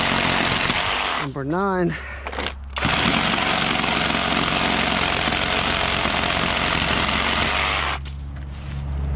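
Kobalt XTR 24-volt max 7-1/4-inch brushless cordless circular saw cutting through a wooden pallet, a loud sustained whining buzz, preceded by a short spoken word and ending as the blade spins down.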